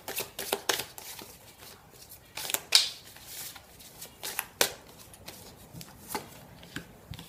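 Tarot or oracle cards being shuffled by hand for a reading, a series of quick riffling and slapping bursts in an irregular rhythm, close and fairly loud, no talking.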